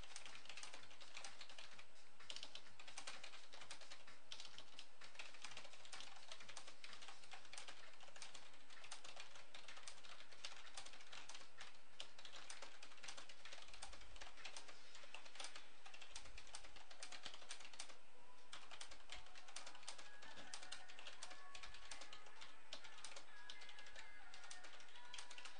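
Fast, continuous typing on a computer keyboard during a typing speed test aiming for about 80 words per minute, with dense rapid key clicks throughout, fairly faint and steady with no talking.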